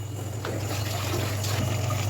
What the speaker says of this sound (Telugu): కావాల్సినంత వాటర్ పోసుకొని